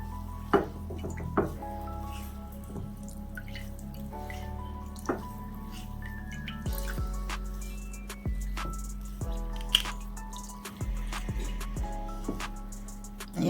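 Grated cassava being wrung by hand through a straining cloth, juice dripping and splashing into a bowl in irregular trickles and drops, with occasional clinks of a dish, close and moderately quiet with no talking.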